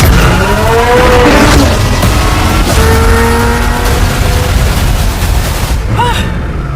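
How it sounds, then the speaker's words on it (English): Supercar with a twin-turbocharged V8 and carbon fiber construction accelerating hard, a loud continuous engine roar with rising and falling gear tones that drop away near the end. "The reason this car is one of the fastest on the planet is because of its twin turbocharged V8 engine"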